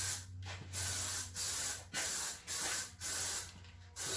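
Plasti Dip aerosol hisses loudly in about six evenly spaced bursts, each lasting roughly half a second, as a light first coat is sprayed close by with no talking.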